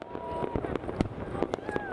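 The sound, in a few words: fireworks exploding over the Parthenon in Athens at New Year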